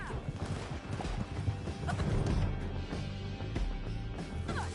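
Horse riding in Red Dead Redemption 2, with hooves clip-clopping and a horse neighing over a dense, steady bed of game music and ambience, fairly loud throughout.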